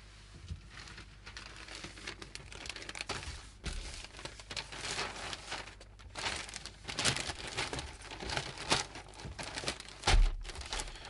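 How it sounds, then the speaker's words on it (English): Figures are packed into a plastic bag, with irregular crinkling and rustling of the plastic at close range, rising and falling in bursts with no talking. "they're going to go in a plastic bag and then again in a box"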